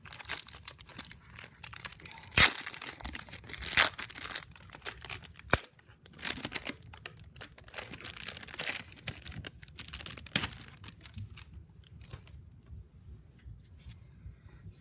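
A foil pack of 1990 Score Series 2 football cards being torn open, with close crinkling and a few sharp rips scattered through a quiet stretch that fades toward stillness at the end.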